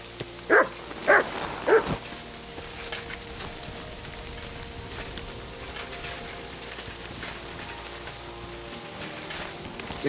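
A dog in the medieval game Kingdom Come Deliverance 2 barks three times near the start, then a steady patter of rain fills the rest of the scene.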